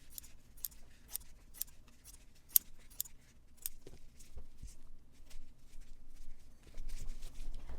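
Scissors trim layers of quilted fabric on a no-sew ornament, giving a series of quiet, crisp snips at an irregular, unhurried pace, close up and alone with only faint handling noise.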